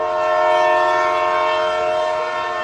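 Cartoon train sounding a sustained, steady horn as it departs, loud and tonal over the rumble of moving cars, with no talking.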